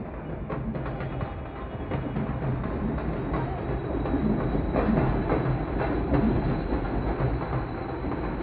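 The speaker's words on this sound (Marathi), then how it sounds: "अरे मेट्रो कॅप्चर झाली आहे गाईज." A Mumbai metro train passes near Andheri, a loud continuous rumble with rhythmic clickety-clack of wheels on rails, swelling slightly as it goes by, heard close and without talk.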